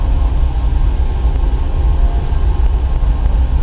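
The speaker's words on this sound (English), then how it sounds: "That's a big train, huh?" A big passenger train idles at the station in Ann Arbor, a loud, continuous low rumble of engine noise filling the whole stretch with faint clanks over it.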